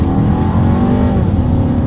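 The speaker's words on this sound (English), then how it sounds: "Let's do a quick little acceleration here, and let's see how quickly we can get this turbocharged 4-cylinder here up to speed." A 2019 Volkswagen Passat with a turbocharged four-cylinder engine accelerating hard, a loud, continuous engine drone rising steadily in pitch as heard from inside the car.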